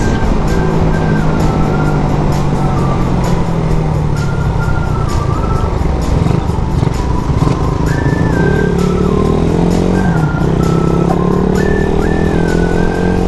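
A 230cc motorcycle built by Bubu Works, still being broken in, runs loud and close the whole time. The engine note is steady and throbbing, and its pitch rises and falls gently with small throttle changes.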